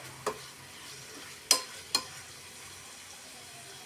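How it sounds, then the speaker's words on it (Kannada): Food roasts in a pan during homemade coconut oil preparation, with three sharp spatula scrapes and stirs cutting through a quiet, low sizzle nearby. "ಇದನ್ನು ಚೆನ್ನಾಗಿ ನಾನು ರೋಸ್ಟ್ ಮಾಡ್ತಾ ಇದ್ದೀನಿ"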